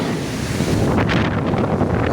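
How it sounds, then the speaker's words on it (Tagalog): Strong, swirling Typhoon Aghon wind in Lucena City roars and buffets the microphone in loud, rushing gusts with no voices. "Umiikot yung hangin. Malakas."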